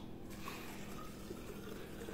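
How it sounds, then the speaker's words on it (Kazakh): Boiling hot water poured steadily into a vessel over cloves for a homemade drink, a continuous, even rushing splash that holds close and moderately loud from start to finish. "Енді қайнаған ыстық су құямыз."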